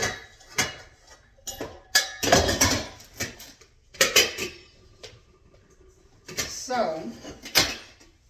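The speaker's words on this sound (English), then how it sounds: "I'll put these other pans back." Metal pans clatter and clank as they are stacked and put away in a home kitchen while cooking fried chicken strips, a series of sharp irregular knocks and scrapes, close and fairly loud, with short pauses between.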